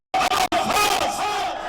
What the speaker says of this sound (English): the crowd shouted death to the Saudi authorities who executed him on Saturday